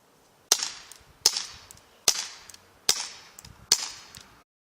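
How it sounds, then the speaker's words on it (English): Five sharp gunshot cracks ring out at roughly even intervals under a second apart, each with a brief echoing decay, in footage of Malcolm X's assassination. "He was shot multiple times and has severe injuries."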